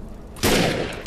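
A snap rifle in the shooter Defiance fires a loud, abrupt shot after a brief quiet lull, with a thick burst that decays quickly over the next half second.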